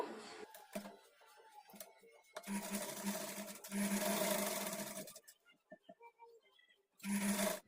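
A sewing machine runs in several bursts of rapid stitching with short pauses between, stitching a kurti's lining to its main fabric with a quarter-inch margin; close and fairly loud, with brief clicks in the gaps.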